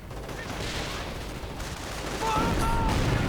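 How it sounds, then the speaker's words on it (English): Grenades burst during a multiplayer video game battle, a dense rumbling barrage of explosions and gunfire that swells louder toward the end, with faint game voices underneath. "And grenades going off."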